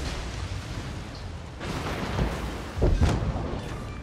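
High-explosive shells strike near the destroyer Shimakaze in World of Warships, heard as muffled booms with a heavier burst near the end over a low steady rumble.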